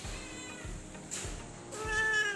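A newly taken-in, sick cat meows several times in quick succession, close and fairly clear, with no talking over it.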